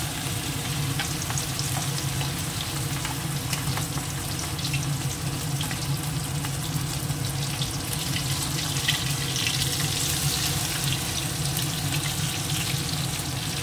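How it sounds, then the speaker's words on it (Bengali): Coated fish frying in plenty of oil, two or three pieces at a time, a loud continuous close sizzle and bubbling that holds steady throughout, with no talking. "এবার এটাকে তেলের মধ্যে ছেড়ে দেবো একটা করে করে।"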